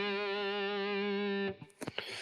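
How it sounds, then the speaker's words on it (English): A single sustained electric guitar note rings out for about a second and a half with a gentle vibrato, followed by a few faint clicks and string noises as it stops. "this note should be given a vibrato"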